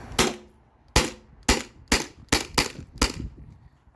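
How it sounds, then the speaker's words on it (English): A modified Sabre 68 CO2 gun with an HDL, shooting during a CO2 tank stress test and magazine dump, seven sharp, loud close shots at an uneven pace under a second apart while the shooter walks. "I'm gonna walk around a little bit and shoot."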